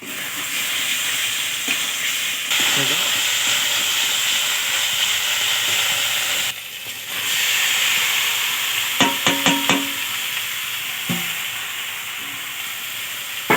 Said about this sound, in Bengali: দিয়ে এবার ভালোভাবে কষতে হবে, মশলাটা পাল্টে পাল্টে, যাতে মশলাটা পুরো কচু শাকটাতে লাগে।